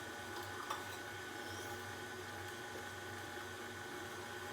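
An electric mixer beats doughnut dough made with softened butter, giving a faint, steady whirring hum that stays even throughout with no talk.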